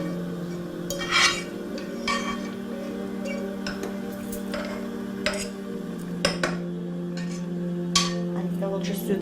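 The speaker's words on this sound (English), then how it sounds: "Aneeqah will just do the stirring now." Cooked rice being stirred with a fork in a pot: light irregular metallic clinks and scrapes over a steady low hum, close and fairly quiet.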